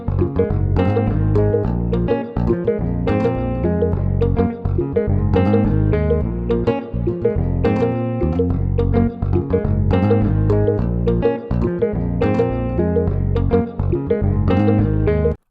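A dense guitar Afrobeats beat built in FL Studio, with a bass guitar line sliding between notes under layered guitars and percussion, playing continuously and loudly throughout without any voices.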